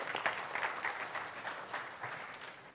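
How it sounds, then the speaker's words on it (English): Audience applause for two volunteers at a family science show: a steady, full round of clapping from a crowd, continuous for a few seconds in a hall. "let's give our two volunteers a big round of applause"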